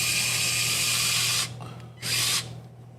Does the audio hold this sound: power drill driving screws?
yes